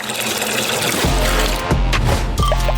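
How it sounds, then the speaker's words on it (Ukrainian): Liquid gelatin poured into cups, a close, continuous trickling and splashing of liquid with a few brief breaks between fills, no talk. "Наповнюю чашки желатином."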